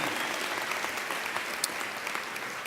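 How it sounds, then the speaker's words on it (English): A university commencement audience applauds the graduating class, a steady, moderately distant roar of many hands clapping with occasional sharper individual claps. "Why don't y'all give them a round of applause, the graduating class"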